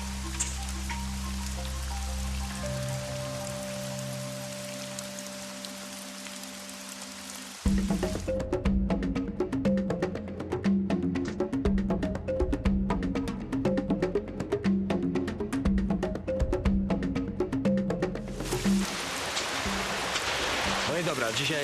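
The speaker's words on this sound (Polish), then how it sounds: "dzisiaj jest totalnie mokro. Pada właściwie co chwila." Steady rain falling outdoors in wet weather, a continuous close hiss with a denser, louder patter from partway through, and no talk.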